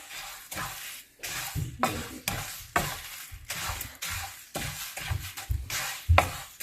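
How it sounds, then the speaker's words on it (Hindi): Bay leaves are dry-roasted in a pan for homemade garam masala, stirred with repeated scraping and light sizzling bursts in an uneven rhythm, close and fairly soft, with no talking. "सबसे पहले डालेंगे तेज पत्ता। ठीक है, पहले हम इसको डाल के भूनेंगे थोड़ी सी देर।"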